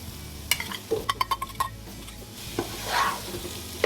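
Fried prawns being stirred into biryani masala in a pan, a steady sizzle under a run of sharp utensil scrapes and taps against the metal, then a softer swirl of stirring, with no voices.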